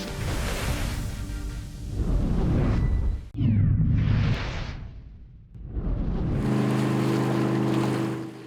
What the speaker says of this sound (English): These high performance boats all get together and it's a big party